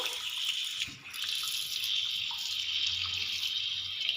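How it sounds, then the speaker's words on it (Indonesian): Water runs steadily from a tap for handwashing, a continuous hiss of flow with a slight dip near the one-second mark, heard alone without any voices. "Pertama-tama nyalakan dulu keran air"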